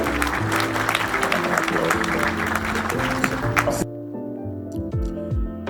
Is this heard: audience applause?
yes